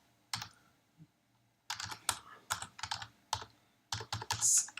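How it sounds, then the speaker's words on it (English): Typing on a computer keyboard, close and quiet, with bursts of rapid key clicks broken by short pauses. "So we keep typing."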